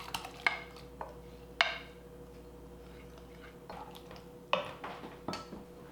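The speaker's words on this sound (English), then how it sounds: "Want to stir that up." Oats being stirred into oatmeal pancake batter with a spoon in a bowl produce a few sharp clinks against the side, along with soft, squishy mixing sounds in between.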